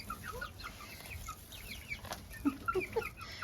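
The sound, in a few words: young chicken clucking on a farm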